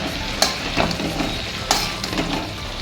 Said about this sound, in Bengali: এই শিমটাকে আবার একটু নাড়িয়ে দিচ্ছি